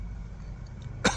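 A sharp burst of coughing near the end follows a quiet stretch, from someone who has just bitten into a crunchy, juicy yellow Bhut Jolokia ghost pepper and choked on its heat.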